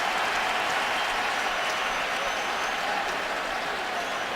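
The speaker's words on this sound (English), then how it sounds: "Crowd gets loud for their defense" Football stadium crowd roaring for the home defense during a Seahawks at Cardinals game, a broad, steady wash of cheering and noise filling the whole stretch without a break.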